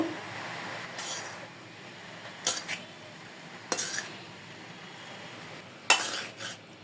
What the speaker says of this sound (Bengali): এখন আমি শাকটাকে একটু ভালোভাবে হালকা রান্না করে নেব